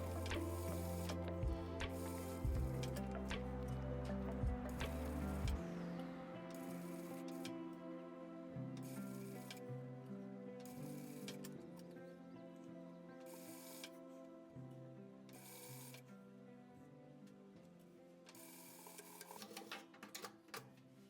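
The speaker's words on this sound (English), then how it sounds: "Sew the fabrics close to the edge." A sewing machine stitches fabric close to the edge while making a bag, running in steady mechanical bursts with brief pauses, faint under background music.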